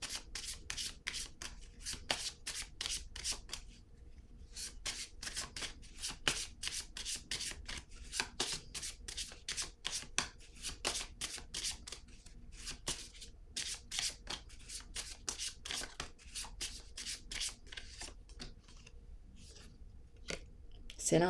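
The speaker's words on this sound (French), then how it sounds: "Je vais piger une autre carte." Tarot cards are drawn and handled close up, a long run of quick, crisp shuffling and rubbing riffles, card against card in rapid rhythmic bursts at low level with no talk.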